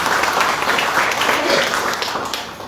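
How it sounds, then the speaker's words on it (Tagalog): Applause from a church congregation during a Filipino anniversary worship service, a steady wash of many hands clapping that fades slightly toward the end. "Palakpak sa Panginoon."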